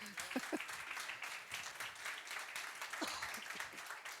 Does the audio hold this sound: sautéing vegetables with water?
no